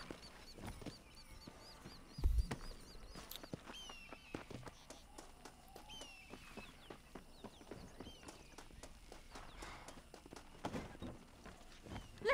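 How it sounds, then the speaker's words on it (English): Stagecoach horses in Red Dead Redemption clopping along with scattered hoof thuds and light rattles at a moderate distance, continuous and fairly quiet, with birdsong chirps faintly in the background. "They are good horses."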